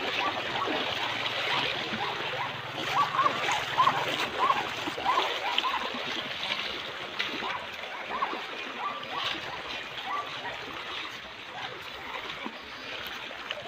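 Water splashing and trickling in a river, with a steady broad wash of flow and occasional louder splashes throughout, near and moderately loud; faint voices can be heard beneath the water.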